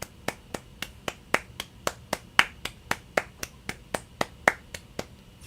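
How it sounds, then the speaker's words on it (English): A single person claps about a dozen times at a steady, slightly uneven pace, sharp and close, with quiet gaps between claps. "Let's clap for him."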